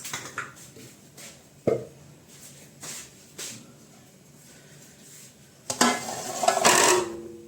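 A metal baking tray for cake is set down: a sharp knock, then a louder clattering rattle a few seconds later, over quiet room noise.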